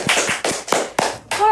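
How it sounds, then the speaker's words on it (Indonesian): About five sharp hand claps ring out at an uneven pace, close and fairly loud, with a voice sounding faintly between them during an Indonesian clinic feature on local TV. "Wow, tepuk tangan dulu dong"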